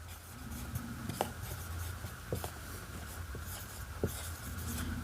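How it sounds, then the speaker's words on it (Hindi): Chalk or marker scratches and taps in short, irregular strokes on a board during a maths lesson, fairly faint in a quiet room with no talking. "तो लिख दो आप इस जगह"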